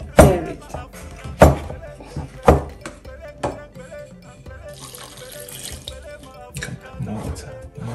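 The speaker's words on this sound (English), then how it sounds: "we add a warm water and stir it" Warm water poured from a tap into a saucepan of corn dough for corn porridge, with a loud splashing gush and several sharp clunks of the pot and utensils, followed by softer stirring and trickling.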